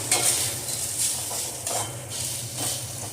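Tamarind and curry leaves being stirred and sautéed in a hot pan: steady sizzling frying with repeated scrapes and stirring strokes of a spoon against the pan, close and continuous, with no voices.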